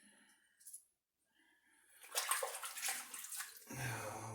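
Tap water running over a Timeless safety razor during a rinse, a short, hissing splash that starts after a brief quiet and fills the last couple of seconds at close range.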